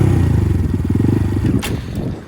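A Honda Grom motorcycle engine revs loud and close, a dense pulsing low rumble with throttle blips, as a rider learning the clutch lets off and dumps it, ending in a brief clatter.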